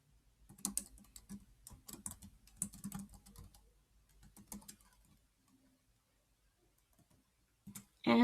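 Close, quiet typing on a computer keyboard, irregular bursts of key clicks over several seconds, then a pause and a last few taps.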